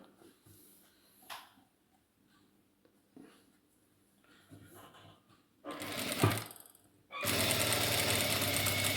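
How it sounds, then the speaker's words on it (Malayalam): Sewing machine stitching a sari blouse, starting with faint intermittent taps and short runs, then building to loud sustained whirring bursts that run continuously to the end, with no talking. "ഇതുപോലെ സ്റ്റിച്ച് ചെയ്തെടുക്കുക. ഇനി നമുക്കിതിൻ്റെ ഷോൾഡർ കൂട്ടാം."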